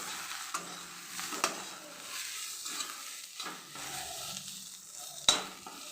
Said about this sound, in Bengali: এখানে আমি দিয়ে দিলাম জিরে গুঁড়ো। এটার সঙ্গে ভালো করে মিশিয়ে নেব।